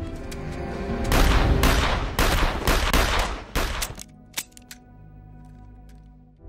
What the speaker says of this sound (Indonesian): Vlad kalah cepat dengan Tanya yang lebih dulu menembak Vlad